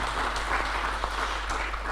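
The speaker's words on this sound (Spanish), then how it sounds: "les damos un aplauso a nuestros panelistas del segundo y último panel" Steady applause from a seminar audience for the panelists, a dense, even wash of clapping throughout with no break.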